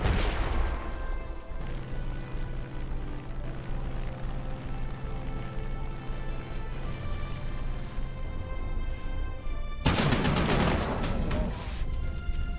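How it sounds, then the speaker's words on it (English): Artillery fire in the World War II strategy game Panzer Corps 2 rolls as a dense, continuous barrage of booms, swelling into a loud heavy blast near the end, with game music playing underneath. "Okay, some artillery."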